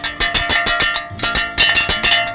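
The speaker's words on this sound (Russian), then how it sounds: "И этот глухой поминальный звон напоминает нам о тысячах, о миллионах солдат" Memorial bell cast from a Katyusha rocket shell casing, struck in a steady rhythm of repeated clangs, each ringing briefly before the next, loud and close with no voices.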